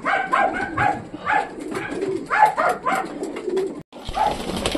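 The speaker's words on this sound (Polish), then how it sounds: "Karmimy gołąbki." Domestic pigeons cooing steadily in the cold while being fed a vitamin-enriched feed during breeding season, several birds giving repeated rolling coos close by, with a brief rustle near the end.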